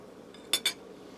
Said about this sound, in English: I'll try some meatball here.